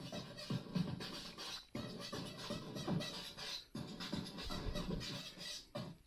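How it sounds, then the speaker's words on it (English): A Rubato modular synth module driven by a Pocket Operator PO12 drum machine plays a busy, scratchy rhythmic pattern, with steady looping beats and noisy textures repeating about every two seconds, fairly loud and alone. "Here's a quick test with the Rubato using the Pocket Operator PO12 drum machine."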